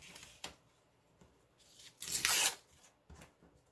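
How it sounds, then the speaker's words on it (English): A square paper coffee filter torn along its edge by hand: a few soft papery rips, with one louder, longer tear in the middle, all close up and quiet with no talking. "I'm gonna tear this edge."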